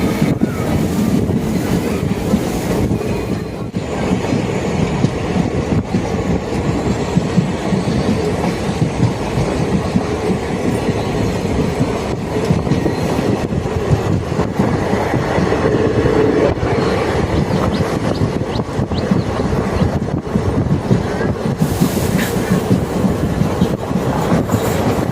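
The TPJ-RMM Express 16849 runs on rails between Trichy and Pudukkottai, a loud continuous rumble and rattle of wheels with steady wind buffeting throughout.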